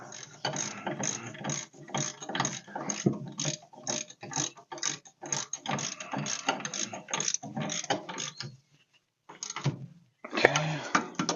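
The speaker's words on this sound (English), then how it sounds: "We're going to tighten up our upper ball joint." A ratchet tightens the upper ball joint on a 1966 Dodge Charger with rapid, crisp clicking in repeated bursts, close up, then a short pause before one more quick burst of clicks.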